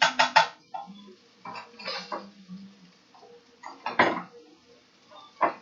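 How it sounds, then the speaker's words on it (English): A spatula stirring onions coated in butter in a pan gives intermittent clinks, scrapes and soft clatters in short bursts separated by quiet gaps, close by with no talking. "I'm just trying to get the butter coated on all the onions"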